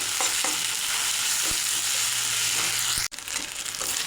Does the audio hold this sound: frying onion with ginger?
yes